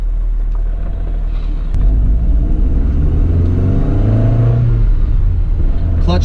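A 1975 Lancia Fulvia with a five-speed manual pulls away on a drive, its engine rumbling low and steady close by and rising slightly as it gets moving, with some voice mixed in.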